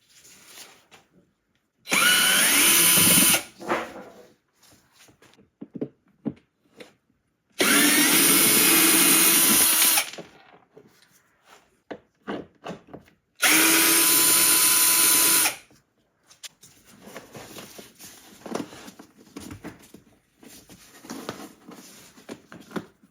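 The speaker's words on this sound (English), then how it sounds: "there will be a few Torx 25 screws that we will have to remove" A power drill runs in three loud, close bursts of about two seconds each, removing Torx 25 screws from the air box of a 2016–18 Mercedes-Benz GLE 350, with quieter handling clicks and clatter between bursts.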